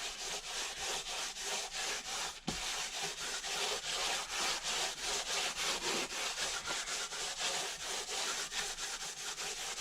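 A fine Scotch-Brite pad scrubs a 2012 Hemi 1500 cylinder head in fast, steady back-and-forth strokes, a close, continuous rhythmic rasping with one brief knock partway through and no voices.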